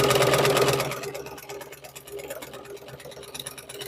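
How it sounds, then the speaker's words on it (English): A sewing machine runs steadily as it stitches around the outer edge of a Christmas rag quilt, loud at first and then easing into a quieter, even mechanical whir. "I'm just coming to the end of sewing all the way around the outside of the quilt."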